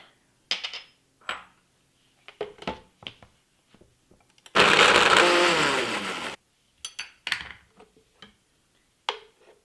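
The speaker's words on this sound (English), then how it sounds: "first I have to blend the tomatoes, ginger and green chilies together to make a puree" A blender purees tomatoes, ginger and green chilies in one loud, steady whir lasting about two seconds, framed by scattered kitchen clinks and taps.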